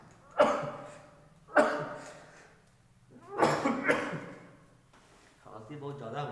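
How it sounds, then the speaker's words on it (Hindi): Heavy coughing comes in three forceful, raspy bursts, each followed by a gasping trail, close and loud, then a voice begins speaking. "खांसी बहुत ज्यादा हो गया।"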